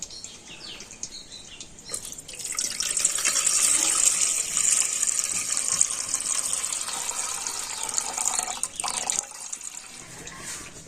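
Water is poured off settled potato starch being made into homemade cornflour, producing a steady splashing pour that swells and then trails off, close and alone without speech.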